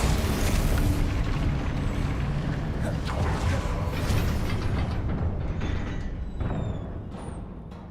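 Spell blasts and explosions in the video game Hogwarts Legacy: a dense, loud wall of booming rumbles and crackling bursts that runs continuously, then thins and fades slightly near the end.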